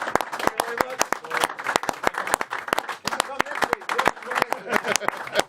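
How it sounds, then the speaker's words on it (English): Dense, sharp hand clapping from a group after a short football challenge, steady and close throughout with no talk over it. "Give them a round of applause."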